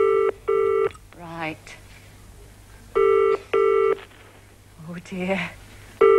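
A British telephone ringing tone is heard down the line in a 1986 television call, repeating in paired bursts with a pause between each pair, while a voice talks in the gaps.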